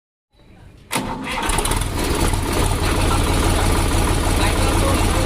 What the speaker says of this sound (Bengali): আমি ইঞ্জিনের সাউন্ডটা ভিডিও শেষে অ্যাড করে দিচ্ছি